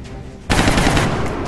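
A burst of gunfire in the turn-based strategy game XCOM Long War breaks out suddenly after a quiet lead-in, then carries on as a dense, loud, sustained rattle of shots.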